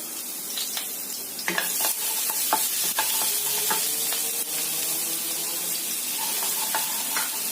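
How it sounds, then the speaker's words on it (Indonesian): Chopped garlic sautéing in hot oil gives a continuous bright sizzle, with scattered spatula taps and scraping strokes close by and no voices. "kita masukkan bawang putih cincang. Kita tumis sampai tercium bau enak."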